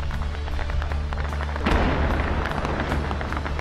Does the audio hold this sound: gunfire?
yes